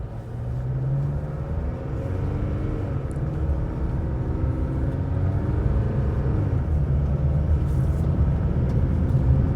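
A Chevrolet Colorado ZR2 pickup gathers speed in off-road mode, its engine a steady, moderate rumble from inside the cab, with the pitch sweeping up gradually through the gears across the whole stretch.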